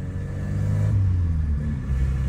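A turbocharged VW Gol G3 engine rumbles steadily as the car shifts up through second and third gear, its low drone swelling slightly mid-shift before settling.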